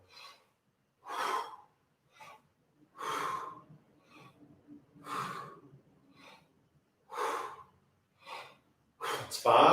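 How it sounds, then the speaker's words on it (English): Heavy, forceful breaths during breath squats in a vocal warm-up workout come in a regular series of loud exhales and gasping inhales, each about a second long, close to the mic. "All right, 15 breath squats."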